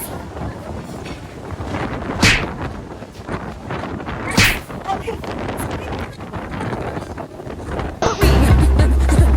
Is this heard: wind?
yes